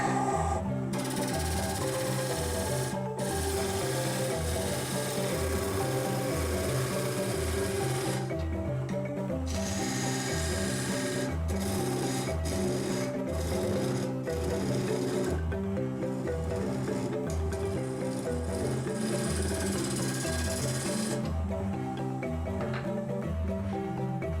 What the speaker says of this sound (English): Clean some out with a square nose scraper.